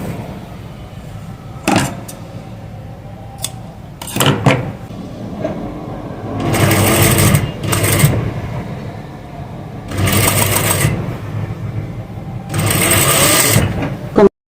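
A sewing machine stitches a frock in several bursts, each a loud close mechanical whirring run of a second or two, separated by pauses with fabric handling and small knocks.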